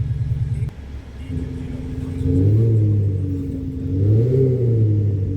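A Mercedes-AMG G63 with a tuned exhaust idles with a deep, loud rumble, then revs up and down twice, its low drone rising and falling close by.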